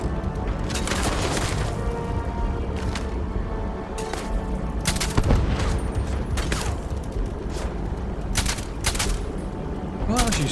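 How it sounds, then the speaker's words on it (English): Gunfire in the sci-fi video game Starfield: repeated sharp shots and bursts ring out at irregular intervals over a steady mechanical game background, fairly close and loud, with a voice talking briefly. "Who's shooting who?"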